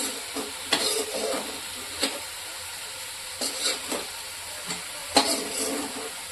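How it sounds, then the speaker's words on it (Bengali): Capsicum goes into hot oil and sizzles softly while a spoon stirs it in the pan, with sharp scraping strokes coming every second or so over the low, even frying hiss. "এবার আমি ক্যাপসিকামটা দিয়ে দিচ্ছি।"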